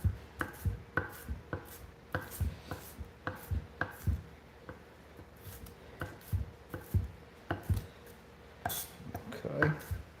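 An onion is chopped with a knife on a board while making an omelette: a steady run of close, sharp thuds in an uneven rhythm, with a faint busier flurry of cuts at the end.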